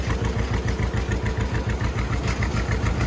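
A Ford 800 tractor raking hay runs steadily at close range, its engine thrumming in a rapid, even low-pitched pulse with mechanical rattle on top, unbroken for the whole stretch and without any voices.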